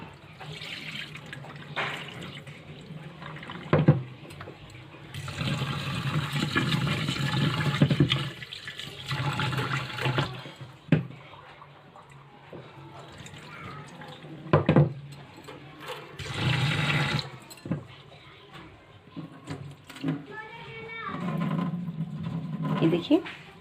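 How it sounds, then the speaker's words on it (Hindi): Rice is washed in a bowl in a home kitchen: water pours and splashes in bursts while grains are swirled and rinsed two or three times, with a voice talking over it. "पानी डाल के अच्छे से पहले धो लूँगी।"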